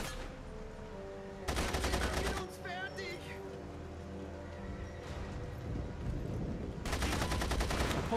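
Gunfire in The Saboteur video game: two bursts of rapid automatic shots, one early and one near the end, loud against a quieter game background with faint clatter between.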